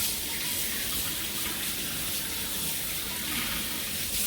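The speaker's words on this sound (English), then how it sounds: "So clean it under running tap water." Tap water runs steadily while mackerel is rinsed clean under it, giving a soft continuous hiss and splashing that stays even throughout, fairly faint and heard alone.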